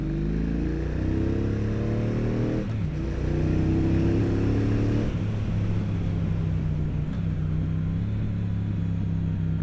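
A 2022 Triumph Speedmaster Goldline Edition cruiser motorcycle with chrome pipes runs steadily and loud, its deep engine note dropping and shifting a few times as it changes pitch, with no talking.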